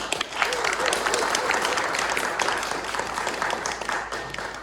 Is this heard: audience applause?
yes